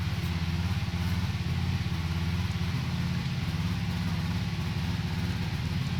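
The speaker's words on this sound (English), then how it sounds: "It's a bit different engine sound in this game" A Formula 1 car engine in the F1 2020 racing game hums as a steady, unbroken drone at constant pitch and volume throughout, with no talk over it.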